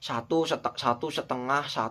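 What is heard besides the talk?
No distinct noise like a dog, phone or traffic.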